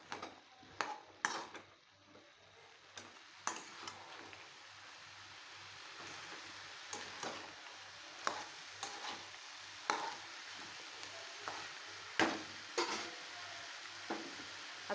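A spoon stirs salted matki sprout curry in a pan, giving scraping strokes and scattered taps against the metal over a soft, steady sizzle, with no talking.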